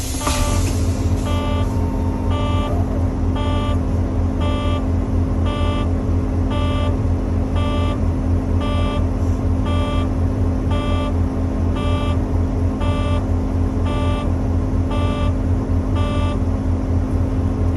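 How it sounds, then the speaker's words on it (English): A truck's low air pressure warning buzzer sounds in steady, evenly spaced pulses about every half second, loud over a constant low engine idle rumble, with no voices. "Just above 60 psi, the low air warnings, everything went off."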